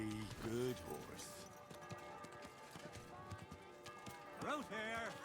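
Horse hooves clip-clop in a medieval video game set near Kuttenberg, a few irregular steps heard close, with a character's voice talking over them and a brief snort or whinny.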